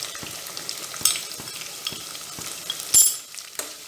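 Onion, ginger and garlic frying with powdered spices in hot oil for prawn biryani, a soft continuous sizzle punctuated by the repeated scrape and clack of a spoon stirring in the pan.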